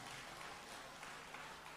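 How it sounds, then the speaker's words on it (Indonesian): Audience applause for a regional tourism official at a gathering, a dense, continuous wash of clapping that holds steady and loud for the whole short stretch. "Tepuk tangan buat Kadispar yang juga pariwisata"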